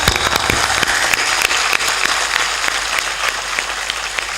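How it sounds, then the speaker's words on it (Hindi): An audience at a religious discourse under a pandal claps loudly and continuously, a dense sustained roar of applause with sharp individual claps standing out throughout. "ऐसी ताली से कुछ नहीं होगा, जोर से।"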